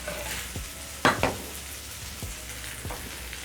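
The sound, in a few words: caramelized bananas sizzling in pan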